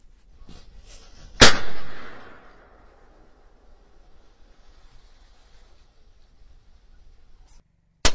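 A 9mm air pistol fired outdoors during a live test: one sharp, loud crack followed by a brief decaying ring, then quiet, with a second abrupt crack right at the end.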